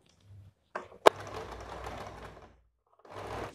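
A sewing machine runs a seam around a blouse armhole in short bursts: a brief whir, a sharp click, then a longer steady stitching run, a pause and another burst, close and fairly quiet.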